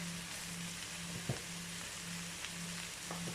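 Potatoes and chorizo sauté in a frying pan, giving off a steady close sizzle with a few faint clicks and scrapes, and no voices.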